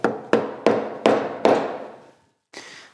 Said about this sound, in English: We'll do that with a chisel.